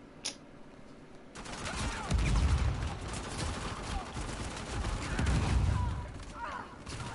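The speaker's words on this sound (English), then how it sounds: "P90 and explosions." P90 submachine gun bursts and explosions in Uncharted 4 multiplayer, rapid sustained gunfire with heavy booming blasts swelling at intervals, dense and close.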